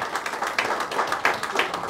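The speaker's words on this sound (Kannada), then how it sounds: "ಇದೊಮ್ಮೆ ಜೋರಾಗಿರುವಂತಹ ಚಪ್ಪಾಳೆ ಬರಬೇಕು" Applause at the inauguration of a diamond exhibition at a gold and diamond jewellery store: steady crowd clapping throughout, fairly close and even, with no talk over it.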